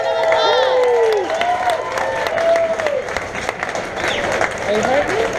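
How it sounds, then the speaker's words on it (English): A restaurant crowd at the Big Texan applauds and cheers after a 72-ounce steak challenge is finished, loud clapping mixed with whoops and a woman's rising, excited voices throughout. "Can we get a round of applause?"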